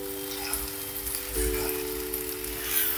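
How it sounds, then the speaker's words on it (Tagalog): Spaghetti for a tuna and anchovy pasta is stirred in a hot pan, giving a soft, close sizzle with faint scraping over three seconds, no voices. "Haluin lang natin ang ating spaghetti."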